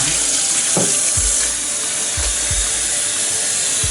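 Potatoes being washed under a running kitchen tap: a loud, steady gush of water with intermittent knocks and thuds as the potatoes are handled in the sink.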